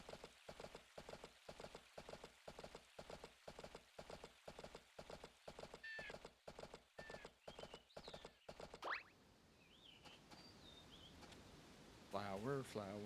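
Hooves clip-clop in a steady, rapid rhythm in the farming video game Story of Seasons: A Wonderful Life. Brief chirpy game sounds follow, and the hoofbeats stop partway through, leaving a quiet stretch before a short musical jingle.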